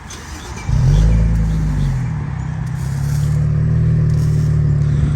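An Infiniti Q50S engine with straight pipes and lower downpipes cranks and catches with a loud surge on a warm start, then settles into a steady, rumbling idle that continues evenly for several seconds.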